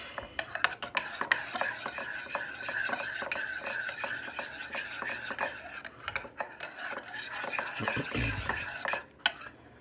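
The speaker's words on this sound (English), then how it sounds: "let's give this pudding a mix" A spoon stirs thick chia seed pudding in a bowl, giving a fairly close run of rapid scraping, rubbing and clinking strokes in an uneven rhythm, then a soft thump near the end.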